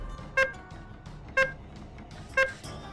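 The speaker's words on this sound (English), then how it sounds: "I'll give you to the count of 4 beeps to do so." Three short, bright electronic beeps spaced about one second apart, steady and evenly timed like a countdown, over a faint background hum.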